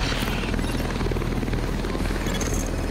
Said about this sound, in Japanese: 緊急回収用ヘリは基地に帰還。